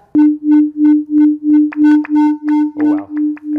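A JavaScript oscillator plays a distorted synthesized wobble tone in a steady pulsing rhythm of about ten loud repeated beats, with a buzzy sustained pitch and brief chirpy accents, alone with no talking.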